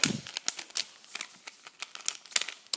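A Rubik's Cube being scrambled by hand, a quick run of close, dry plastic clicks and clacks in an irregular rhythm, with no voices.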